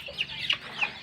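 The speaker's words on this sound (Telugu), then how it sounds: "ఈ పిల్లల కోళ్ళు" Young country chickens near a shed giving a few short, high-pitched clucks and chirps, close but fairly quiet, with no people talking.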